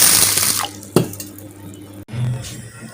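Water is poured over toor dal lentils to soak them, making a brief splashing run into the vessel with a sharp pour near the middle and a quieter trickle after.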